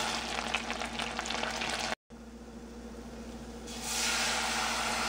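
Butter melting with flour stirred in a pan, giving a continuous soft sizzle and frying crackle, close and steady, with a brief cut partway through and the hiss growing brighter toward the end.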